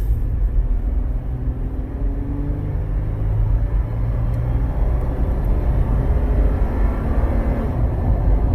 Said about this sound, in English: she'll actually give it some gas so we can see what it looks like